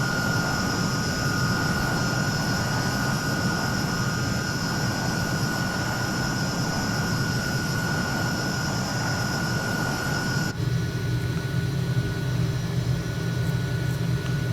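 Hawker Hunter twin-seat jet aircraft in Microsoft Flight Simulator, a steady loud engine roar with a constant high whine that shifts in tone near the end, with no talk.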